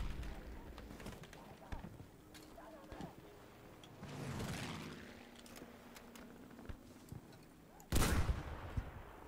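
Battlefield V gunfire in scattered shots and short bursts over steady battlefield ambience, with a louder, closer blast of fire near the end.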